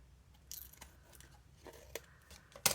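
Scissors trimming recycled-envelope art journal paper, with a few short, quiet snips and crisp cuts spread unevenly and a louder final snip at the end, no voices.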